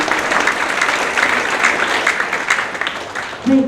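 Loud, close applause from an audience at a vocational school event, sustained clapping with a lively uneven texture, then a brief voice cuts in at the very end.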